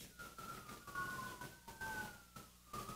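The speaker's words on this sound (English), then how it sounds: "I hear the sirens. They're just going past." Several emergency vehicle sirens wail past along a street, their rising and falling tones overlapping and steady across the whole stretch over a rumbling traffic background.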